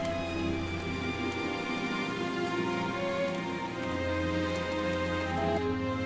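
Steady rain falls outside a cave homestead on a rainy day, a continuous soft patter beneath gentle sustained tones, unbroken throughout.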